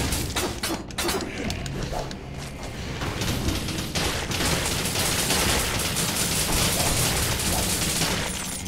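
Rapid, sustained turret gunfire in a video game, a dense continuous burst of shots with thumps and mechanical clatter, loud and close for the whole stretch.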